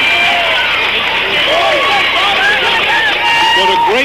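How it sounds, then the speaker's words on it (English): Crowd noise at a Dare County All-Stars baseball game, a steady broad roar of a standing crowd with whistles and shouts rising through it, loud and continuous throughout. "if you're within a reasonable distance of the field, you can probably hear the crowd"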